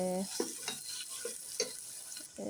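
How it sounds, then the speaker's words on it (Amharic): Onion fries in hot oil in a pot, a bright sizzle broken by short stirring scrapes at an uneven rhythm, close and fairly loud. "ድስት ላይ ዘይት ጨምሬያለሁ። ከዛ ሽንኩርት ጨመርኩኝ።"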